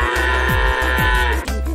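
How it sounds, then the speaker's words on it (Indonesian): A cow moos loudly and close by in several short, drawn-out lowing calls back to back, with nothing else heard. "Itu kali suara sapi."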